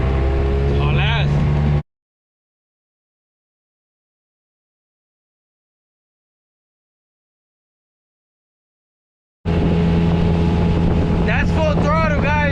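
A jon boat's outboard motor runs near full throttle with a loud, buzzing whine and wind noise. The engine pitch sweeps up and down as the boat turns donuts, and a long silent gap separates two short bursts.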